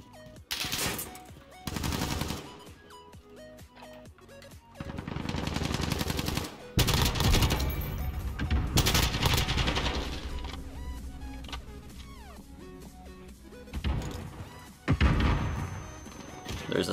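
AUG rifle gunfire in a video game rings out in sharp automatic bursts and single shots, loud and close, scattered across stretches of game sound.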